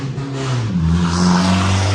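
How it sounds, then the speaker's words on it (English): A truck fitted with a loud aftermarket fart-can exhaust revs close by, its droning engine note rising and holding steady for a couple of seconds, loud and alone with no talk over it. "Oh, a fart can on a truck."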